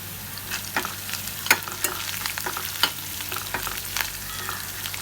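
Ginger sizzling in pomace olive oil in a pan while being stirred, with steady frying crackle and scattered sharp clicks and scrapes of the spoon.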